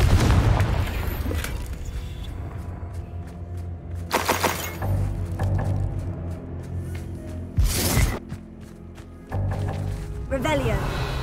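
Fire-blast spell explosions in a Hogwarts Legacy fight: several sharp booming bursts near 4 s and 8 s over a steady game music and ambience bed, with a loud crackling blast around 8 s.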